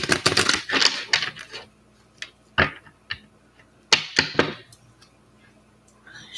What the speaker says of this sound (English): Shuffled for you while you're getting your question for me.